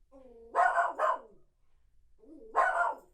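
A Newfoundland puppy barks twice in quick succession, then once more after a pause, close and fairly loud against a quiet background.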